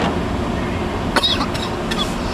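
During a drive through a Pittsburgh blizzard in 2010, a person inside a car lets out a few short coughs over the steady road noise.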